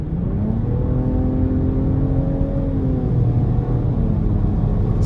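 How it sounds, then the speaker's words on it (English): A 2023 Nissan Rogue SV pulls hard at full throttle on a wet road, its engine note a steady, loud droning rumble with rising whine held close and continuous for about five seconds, no talking. "And I actually really like the engine sound."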